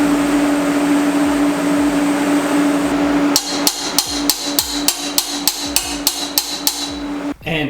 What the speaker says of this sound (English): get a hammer, and I'm just gonna tap down on the end of our piece here